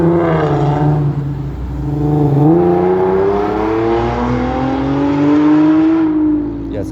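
A car races up a residential street posted at 50, its loud close engine droning with a steadily rising pitch as it accelerates past for several seconds.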